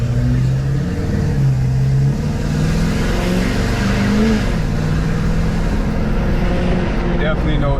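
A tuned and deleted Ford F-350 pickup truck pulls out and accelerates, its engine a loud, close, rising drone climbing through the gears, with a voice talking over it.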